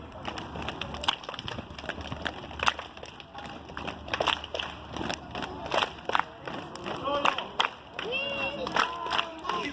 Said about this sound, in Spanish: vamos a aplaudir las piernas y aplausos